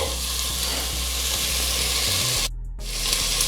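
Potatoes, beans and carrots sauté in hot oil for a vegetable kurma, sizzling steadily up close with light stirring scrapes and a brief pause near the end, and no voices.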